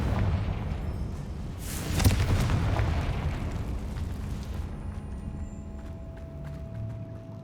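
A Confringo spell blast in Hogwarts Legacy bursts loudly about two seconds in, a single booming explosion with a crackling tail that fades into low game ambience and a steady tone.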